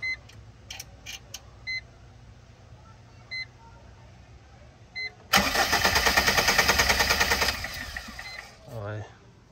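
A Foton Traveller diesel engine cranks and catches after its fuel filter is replaced and primed, starting with a loud steady roar following a few faint beeps, then winding down as a voice speaks briefly.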